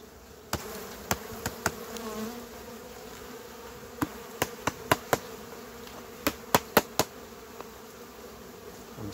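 Honeybees from a wintering colony buzz steadily around their hive in a continuous, fairly close drone, broken by a series of sharp clicks or knocks scattered through it, with no talking.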